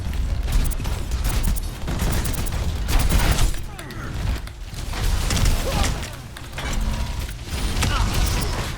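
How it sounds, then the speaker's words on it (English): Artillery blasts and mechanical clatter from the Overwatch 2 PvE mission in Rio, loud and dense, rolling in repeated bursts across the whole span with no spoken voice. "Another artillery!"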